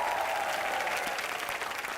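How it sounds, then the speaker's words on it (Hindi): A studio audience at a television entertainment show claps steadily and enthusiastically, a dense, even wash of applause throughout. "जोरदार तालियां हो जाए इनके लिए।"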